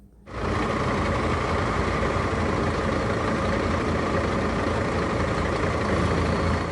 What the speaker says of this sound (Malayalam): ആദ്യം വന്ന ബസ് പിയാത്തയാണ് കേട്ടോ.